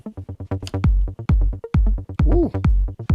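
Steady four-on-the-floor kick drum thumping through Strymon Black Sky reverb, with a hazy, shimmering wash and swelling synth tones layered over the beat in a melodic house groove played without a computer.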